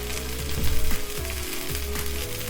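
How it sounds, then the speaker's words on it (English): Chopped onion frying in a cast iron pan, a steady close sizzle with a few scraping stirs, no voices. "So we're just going to fry this onion off until it starts softening."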